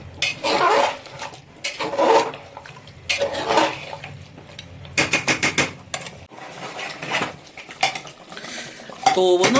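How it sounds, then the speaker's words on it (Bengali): Spoon scraping and clinking against a metal pot while a mutton curry mix is stirred, in bursts of rhythmic clatter with short pauses, loud and close, no talking. "এইবার এটা করতে হবে ভালো করে মিক্স"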